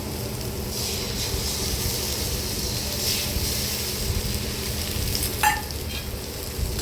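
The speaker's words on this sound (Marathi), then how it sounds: "त्याच्यानंतर आपण हे चार अंडी फोडून घेतलेली आहेत ती टाकायची तव्यामध्ये" Four beaten eggs poured into a pan of onion-garlic masala give a steady, close sizzle that carries on throughout, with one brief metallic clink near the end.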